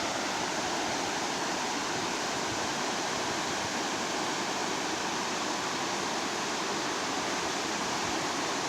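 Creek water rushing along the Pacific Crest Trail near Deception Pass, a loud, steady broadband roar of flowing water with no breaks and no voices.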